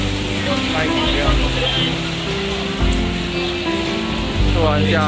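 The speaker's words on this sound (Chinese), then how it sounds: "突然下大雨" Heavy rain pours down on an outdoor Mid-Autumn Festival carnival night market in George Town, Penang, a loud steady hiss running throughout beneath voices and tonal sounds from the stalls.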